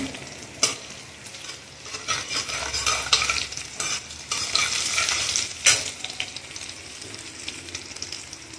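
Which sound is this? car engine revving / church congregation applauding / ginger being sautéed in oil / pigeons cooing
ginger being sautéed in oil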